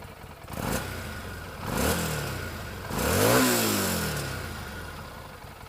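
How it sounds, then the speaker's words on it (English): Harley-Davidson Street 500 motorcycle with its standard exhaust, revved three times in a row, each blip rising and falling in pitch over a steady idle, close and moderately loud. "I'll give it a rev here so you guys can hear it"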